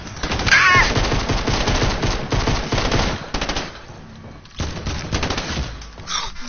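Loud, sustained automatic gunfire in a shooter video game, bursts of rapid shots with brief lulls and a short whizzing streak early on, no voices.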